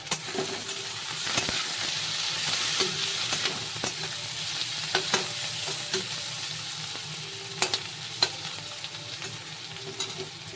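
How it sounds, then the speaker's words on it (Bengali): Onions frying in a mix of ghee and oil in a pan: a steady, close sizzle runs throughout, broken by sharp clicks and scrapes of stirring. "এরপরে পেঁয়াজগুলো দিয়ে দিলাম, পেঁয়াজগুলো ভাজা ভাজা হবে"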